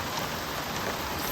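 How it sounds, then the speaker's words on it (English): Steady rain falls on an off-grid workshop build site, a dense, even hiss of drops drumming on surfaces, close and continuous with no voices. "during this rain"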